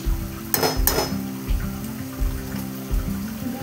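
A metal lid is set onto a cooking pot of bottle gourd simmering in its own water, giving two sharp clanks near the start over a low, steady sizzle and faint kitchen clatter.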